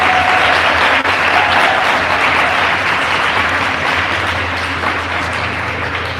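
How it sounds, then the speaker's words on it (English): An audience at an inter-secondary schools debate final gives a sustained round of applause for the winning debaters, loud and continuous, tapering slightly toward the end. "Give them all a round of applause, please."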